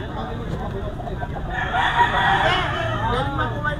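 A White Kelso gamefowl rooster crows once, loud and close, at an outdoor gamefowl market with background chatter and bustle.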